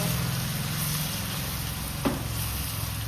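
Turmeric stirred into chicken frying in a pan, giving a steady, even sizzle throughout with one brief scrape of the spoon midway.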